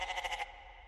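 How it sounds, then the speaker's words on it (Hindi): A goat gives a single short, wavering bleat that pulses for about half a second and then fades out. "बकरा"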